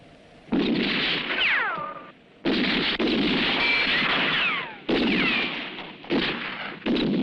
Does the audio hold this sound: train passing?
no